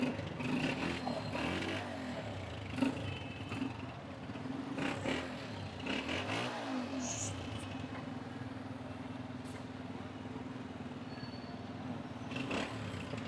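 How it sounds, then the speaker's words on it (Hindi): A Honda Deluxe 125 motorcycle engine idles and rumbles close by, with a few brief revs early on, then settles into a steady low putter. "होंडा डीलक्स 125 अच्छे साउंड में"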